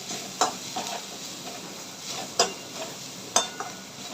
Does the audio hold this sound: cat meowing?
no